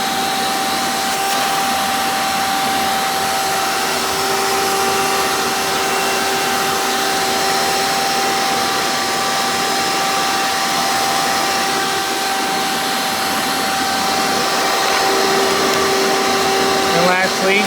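A Hoover Encore Supreme U5059-930 upright vacuum cleaner runs continuously, with a loud, steady motor roar and a sustained high whine, close and unbroken throughout.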